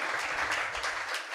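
An audience at a Swaminarayan religious discourse claps together, a dense, fairly loud burst of applause lasting about a second before it breaks off.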